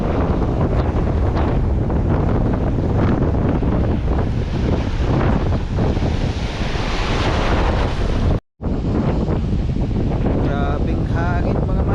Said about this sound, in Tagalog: Grabing hangin mga master.